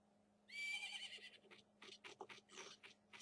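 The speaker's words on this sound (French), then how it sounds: "On dirait ton cheval." A horse in the video game Zelda Majora's Mask gives a bright whinny about a second long. Quick galloping clip-clop hoofbeats follow at moderate volume, with no talk over them.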